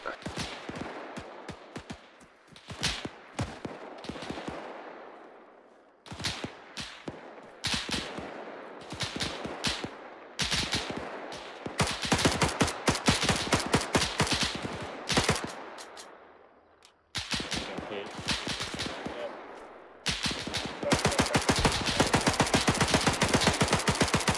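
Automatic gunfire from an Arma 3 battle, with a machine gun firing bursts into a compound. Long rattling volleys come in waves, and scattered single shots break the short gaps between them. The fire stays loud and continuous all the way through.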